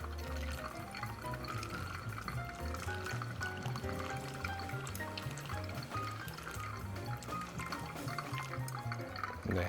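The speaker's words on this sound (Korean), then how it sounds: "저는 끊지 않고 300g의 물을 다 부어 주도록 하겠습니다" Hot water pours steadily and without a break over ground coffee in a hand-drip brewer, a continuous close trickle and splash that lasts throughout with no voices.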